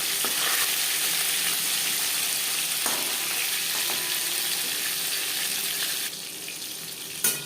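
Pieces of catla fish sizzle in hot oil in a pan, a loud, dense crackle that runs continuously with occasional stirring clinks, thinning slightly near the end.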